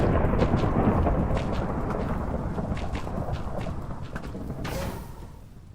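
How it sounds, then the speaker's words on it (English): Game thunderstorm with characters running through it: a heavy, continuous rumble of thunder and wind, with faint thudding steps underneath, easing off toward the end. "We're running through the storm."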